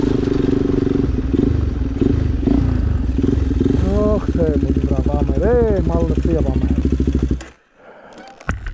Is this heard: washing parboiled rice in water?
no